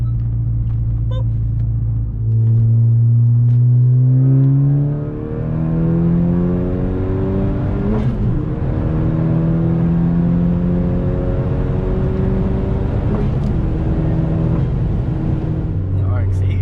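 A 10th-generation Honda in sport mode makes a hard highway pull: the engine note climbs steadily in pitch, drops at each upshift, then rises again. Loud and close from inside the cabin, over steady road rumble.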